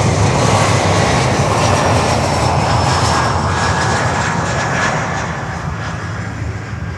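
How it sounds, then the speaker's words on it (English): An American Airlines Embraer 175 jet roars loudly and steadily nearby at Miami, a broad engine rumble with a thin whine on top that holds for several seconds and then eases slightly. "Alrighty, American Airlines. Embraer 175."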